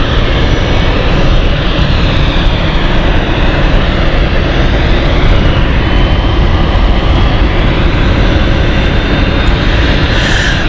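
Dassault Falcon business jet moving at London City Airport, a loud steady engine roar and rumble that fills the whole stretch without letting up, no voices over it.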